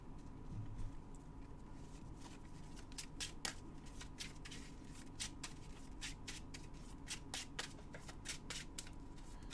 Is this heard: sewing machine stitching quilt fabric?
no